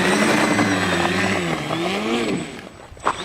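A small radio-controlled ski craft's engine whines at speed, a steady high buzz whose pitch rises and dips as it runs across the water, fading slightly toward the end.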